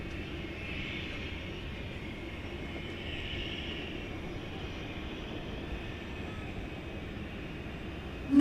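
Martin Air Flight 680, a Cessna Super Cargo Master arriving at DFW at night from Wichita Falls, Texas, makes a faint, steady propeller-engine drone in the distance, ending with a short sharp noise.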